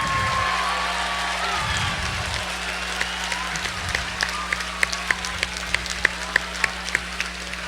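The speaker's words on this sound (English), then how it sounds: "Give these people a round of applause." An audience at a state student-association conference business meeting applauds, a dense patter of many hands with a few sharp individual claps standing out near the end, filling the room.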